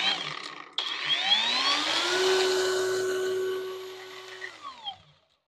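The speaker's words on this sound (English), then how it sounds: "when you press the trigger, it will allow the grinder wheel to rotate" A cordless angle grinder whines as it spins up to a steady high-pitched hum, runs for a few seconds, then winds down and clatters to a stop.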